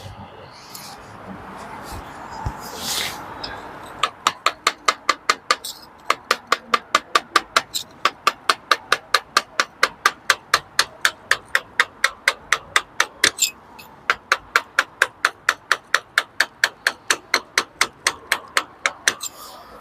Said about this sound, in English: Now we're already taking a tiny little bit up with the chisel